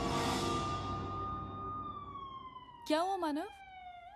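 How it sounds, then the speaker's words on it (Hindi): Ambulance and police car sirens wail, one long tone gliding downward as it fades into the distance, then a brief warbling yelp. A person speaks over the final part. "एक एम्बुलेंस है और एक पुलिस कार है"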